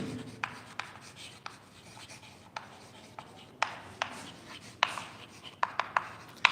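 Handwriting with a pen or chalk during an English class, soft scratchy strokes interrupted by sharp taps at irregular intervals, close and fairly quiet with no voices.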